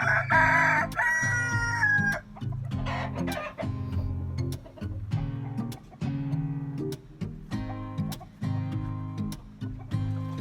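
Hens cluck on a farm, with a rooster crowing loudly at the start, then a steady run of low, close clucks in repeated bursts with no talking.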